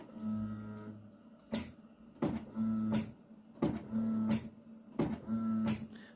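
An Afinia label printer checking and initializing its ink cartridges, with repeated mechanical whirs, clicks and short humming motor runs cycling about every second, close and fairly quiet with no talk.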